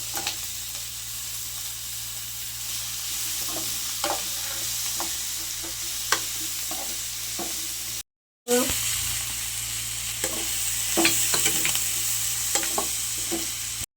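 Vegetables for a mixed-vegetable chutney sizzle steadily in a hot pan with turmeric while a spoon stirs and scrapes now and then, with a short break midway before the frying resumes.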